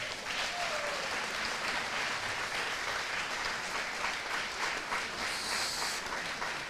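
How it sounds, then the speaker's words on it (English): Audience applause for environmental pioneer award honorees, a continuous even wash of many hands clapping from start to finish. "let's give them a round of applause"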